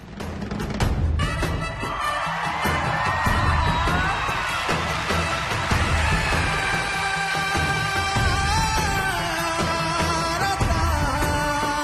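Loud, sustained applause and cheering from a large crowd at a televised dance show, dense and steady throughout with occasional shouts and whoops rising above the clapping.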